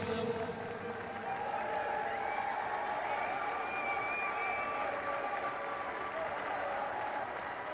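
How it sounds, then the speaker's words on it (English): Sustained applause and cheering from a large outdoor crowd greeting the women's runners-up team at a rugby event at Twickenham, a steady dense wash of clapping holding at even loudness throughout with a few voices mixed in. "Huge round of applause, huge cheer for them."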